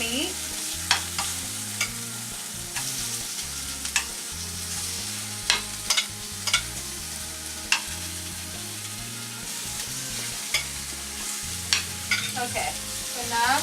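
Thin pork slices sizzle steadily in a frying pan for a Cuban slider recipe, a dense continuous fry with regular sharp clicks and scrapes of stirring or turning, close and fairly loud with no talking.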